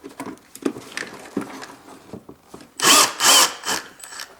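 A power tool spins bolts off the air filter cover on a Mercedes-Benz 651 engine, with several short loud whirring bursts near the end after softer clicks and handling noises.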